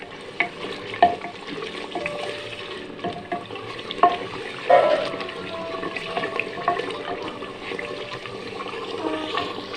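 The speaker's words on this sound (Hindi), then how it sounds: "ये मसाले हम इसमें मिक्स करेंगे। इसकी बुनाई करेंगे नाज़रीन" Spices are stirred and sautéed in a handi for chicken nihari, with yogurt water cooking off; soft scraping strokes and a gentle sizzle recur at irregular intervals, moderately close and not very loud.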